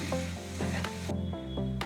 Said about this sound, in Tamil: உப்பு போட்டுட்டு கொஞ்ச நேரம் நல்லா வதக்கி விட்டுடலாம்